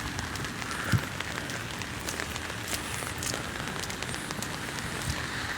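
Steady rain pours onto a city street in the CBD of Birkirkara, Malta, an even hiss of drops on pavement heard close while walking, with a few louder splashes and no talk.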